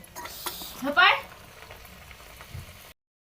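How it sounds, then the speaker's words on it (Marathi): Puris fry in oil for a homemade puri bhaji, giving a soft, low sizzle with a brief brighter burst of bubbling near the start before settling to a quiet hiss. "पुऱ्या तळत आहे"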